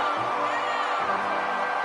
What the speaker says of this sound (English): the Macho Man Randy Savage has got this crowd electrified.